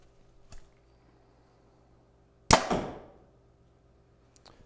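A 2023-model bow fires an arrow in one sharp, loud, close release snap that fades into a short ringing buzz, with faint ticks before and after and no talking.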